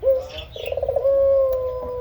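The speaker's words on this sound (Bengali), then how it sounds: "ওইটা যেটা ডাকছে সেটা হচ্ছে একটা ছেলে ঘুঘু" A male dove coos in a steady, rolling series of soft notes, close and clear, with a brief pulsing burst in the middle.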